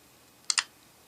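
A ZTE Open phone running Firefox OS gives its screen-unlock click: two quick, sharp clicks close together, near and crisp against a quiet background.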